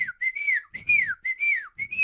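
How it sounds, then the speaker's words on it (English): A person whistles a series of sliding, drooping notes in quick repeated bursts, close and clear, in an attempt at a wolf whistle. "That's not a wolf whistle"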